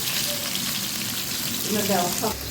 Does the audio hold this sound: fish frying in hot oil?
yes